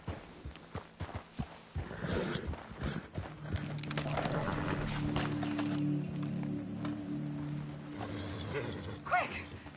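Horse hooves clip-clop at a steady walking pace in the Western video game Red Dead Redemption 2, moderately close, with a low rumbling bed underneath and no talking.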